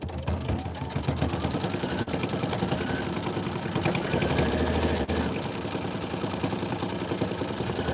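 An embroidery sewing machine runs steadily through a tack-down stitch for a Kimberbell quilt project, its rapid mechanical chatter continuous and fairly close, with faint voices occasionally behind it.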